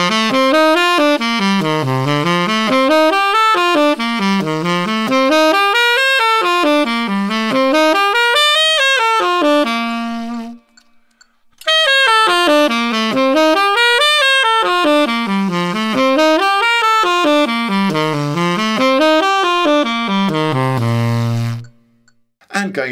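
Saxophone runs a major scale in stacked 11th arpeggios, rising and falling in a steady repeating zigzag pattern, played twice with a short pause between passes, close and loud, ending on a low held note.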